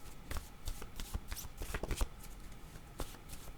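A deck of cards is shuffled and flipped close by, soft riffling bursts and light slaps coming in uneven clusters, fairly quiet with no talk.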